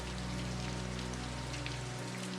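Steady rain patters against glass in a continuous, even wash of fine droplets, close and soft with no pauses and no voices.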